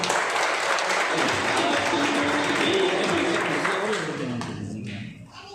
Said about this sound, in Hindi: तो इनके लिए एक बार जोरदार ताली बजाएं।